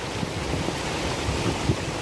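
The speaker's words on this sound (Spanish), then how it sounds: "es un pequeño arroyito, menos que un arroyo" Small mountain stream, a trickle smaller than a brook, flowing near the Tristaina lakes in Andorra; a steady broadband rush of running water with some wind, continuous and close, no talking.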